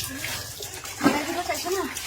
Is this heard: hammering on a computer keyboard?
no